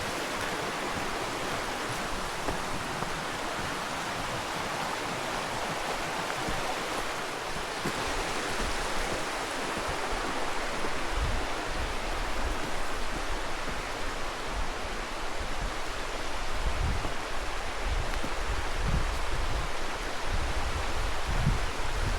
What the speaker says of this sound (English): The waterfalls are a little bit more extreme.